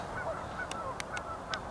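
Geese near a beaver lodge on ice give several short nasal honks, fairly near, over a low steady outdoor background.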